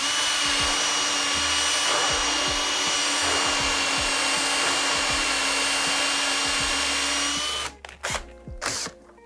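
A power drill whines steadily at high speed as it bores into MDF board, then stops near the end, leaving a few brief knocks and scrapes.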